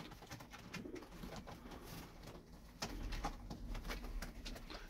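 Tumbler pigeons coo softly in low, repeated murmurs, with faint rustling and background noise around them.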